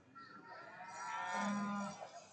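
A single steer lowing at a cattle show in a stock pavilion, one drawn-out moo rising and fading over about two seconds, moderately close against faint hall ambience.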